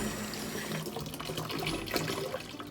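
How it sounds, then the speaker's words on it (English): Tap water runs steadily into a kitchen sink during handwashing, a continuous splashing hiss with no talk over it. "we're now gonna turn off the water"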